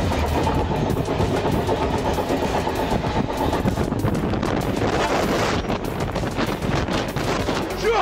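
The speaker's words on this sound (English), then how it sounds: "another train swept past her" A train rushes past close by in a continuous loud roar and rumble, buffeted by heavy wind noise throughout.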